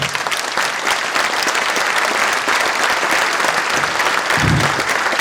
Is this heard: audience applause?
yes